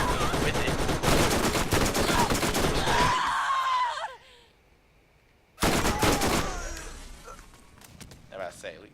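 Gunfire from the video game Borderlands 1, rapid dense bursts of shots under a constant talking voice. It drops to near silence for about a second and a half midway, then resumes just as loud.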